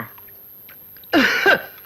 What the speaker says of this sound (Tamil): இருமினண்டா ஓ இருமுனீங்களா